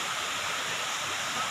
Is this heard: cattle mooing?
no